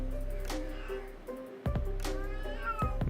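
A hungry cat meows for food several times, close and clear, with drawn-out cries and a short pause between them, over a steady low hum in a room.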